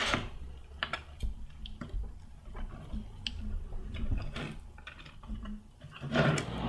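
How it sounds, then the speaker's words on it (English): A putty knife scrapes old, softened paint off a skateboard deck in repeated short strokes, producing close, rough scratching with small knocks and clicks. "Now I'm using a putty knife to scrape away the old paint."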